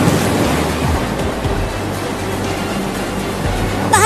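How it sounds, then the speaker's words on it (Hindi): Water gushes steadily from a burst water tank, a loud, continuous rushing roar that stays even throughout with no voices over it. "लगता है टंकी फट गया और टंकी का सारा पानी।"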